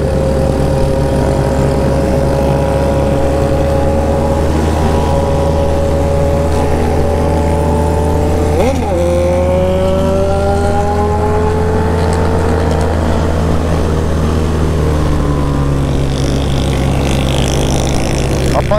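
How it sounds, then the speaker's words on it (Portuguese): A swarm of motorcycles on a night ride rumbles close by, several engines droning and shifting pitch together as riders rev and pass, a steady loud roar throughout. "Tanto de moto que tá vindo lá pra trás, mano."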